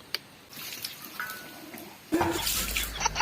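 Water splashes and pours steadily close by in an outdoor village setting, starting softly and turning into a louder, heavier gush partway through, with no talk over it.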